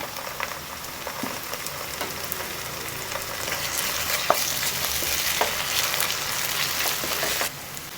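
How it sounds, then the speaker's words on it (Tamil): Steady sizzling and crackling of ginger and garlic frying in a hot pan for tomato rice, with occasional stirring clicks, close and continuous. "இஞ்சி பூண்டு சேர்த்து நல்லா வதக்குங்க"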